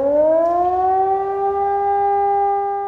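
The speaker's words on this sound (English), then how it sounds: "the sound of sirens blared through the city" Air raid sirens wail steadily over a city, a loud, sustained rising tone that holds and swells without pause.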